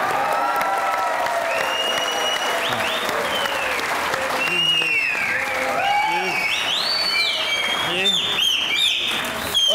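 Studio audience applause on a comedy talk show greets a guest's entrance, a steady clapping wash with music and voices layered over it.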